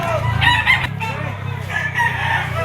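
A white-legged gamecock stag at a poultry auction market crows loudly and close by, with two strained crows separated by a short pause and clucking and faint talk in the background.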